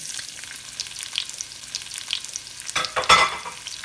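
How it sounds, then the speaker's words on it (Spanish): Onion and tomato fry in olive oil in a pan with a steady, close sizzle, ending in a louder burst of crackle and clatter as the pan is stirred. "Y aquí lo voy a dejar que se fría un momento."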